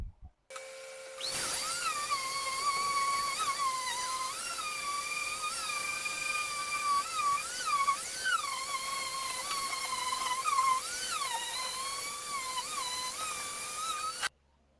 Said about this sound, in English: I'm gonna take my orbital sander